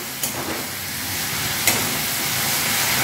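Onion-garlic paste and dried red chilies frying in hot oil, a continuous close hiss and sizzle with a couple of sharp clicks, no talking.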